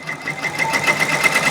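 Embroidery machine starting to stitch out a design on a sweatshirt, a steady rapid mechanical whir with a fast regular needle clatter and a thin high tone, close and fairly loud throughout.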